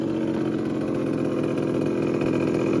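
A Yamaha Jog two-stroke scooter engine runs steadily nearby with a loud, raspy exhaust, a continuous buzzing drone that holds level for a few seconds.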